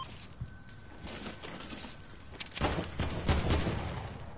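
Heavy AK gunfire in the game Fortnite, heard as a rapid burst of shots that starts quietly and builds to louder, denser fire in the second half, with no talk over it.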